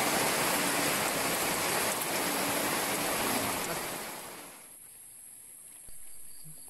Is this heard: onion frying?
no